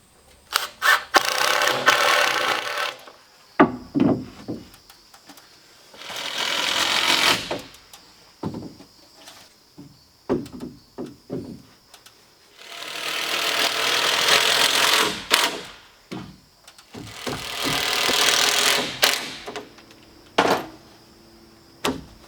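A power driver sends screws into wooden rafter tails on an outdoor kitchen build. Four long, loud whirring bursts are separated by quieter knocks and handling clatter, with no speech.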